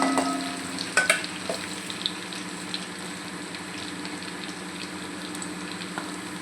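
Crushed garlic with curry leaves fries in oil in a pan, giving a steady close sizzle with a few stirring clinks near the start, then an even crackle throughout, with no voices.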